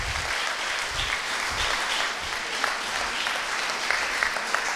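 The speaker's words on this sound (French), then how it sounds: "je vous demande d'applaudir Bruno Grandjean" Sustained applause from the audience at the Montgolfier awards ceremony in France, an even, full wash of clapping with a few low thumps underneath and no speech over it.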